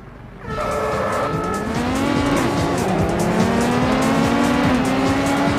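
Pack of race cars in Real Racing HD launching from the start, engines surging loudly together with rising revs and tire squeal, close and continuous, no talking.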